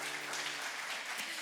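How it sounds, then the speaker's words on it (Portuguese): A church congregation applauds during a worship service, a soft, steady wash of many hands clapping at a distance, with no voices standing out. "Você pode aplaudir o Senhor?"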